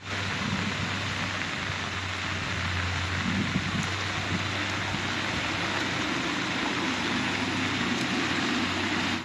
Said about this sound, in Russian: мегаливень накрыл центральный регион России